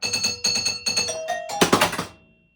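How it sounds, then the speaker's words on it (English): Chimes on a Hot Tip pinball machine ring at the start of a game: three evenly spaced bell strikes, then a rising run of tones and a final cluster of dull, flat dings that fade into silence. "listen to the chimes. Let's start a game."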